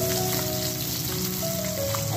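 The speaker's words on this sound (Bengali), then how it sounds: "আজকেও দেখো ফুটছে, খুব ফোটে পাবদা মাছ।" Scaleless pabda fish frying in hot oil, a dense, steady sizzle with popping spatters, close and continuous.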